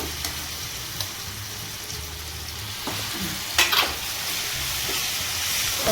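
Tempering sizzles steadily in a hot pan for raw tamarind chutney, a continuous hiss with a few brief louder crackles and spatters partway through, heard alone without voices.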